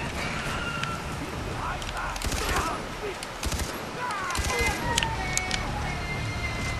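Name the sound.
gunfire in the video game Far Cry 3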